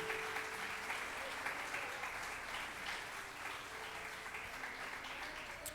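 A church congregation applauds during a Sunday morning service, a sustained wash of many hands clapping that stays fairly even throughout, heard at a moderate distance.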